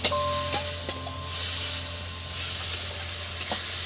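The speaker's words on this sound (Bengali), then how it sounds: "এবার দিয়ে দিচ্ছি বেটে রাখা মশলা" Ground spice paste of chilli and ginger frying in a pan for a chicken and potato curry, a steady close sizzle with occasional stirring scrapes and clinks of a utensil against the pan.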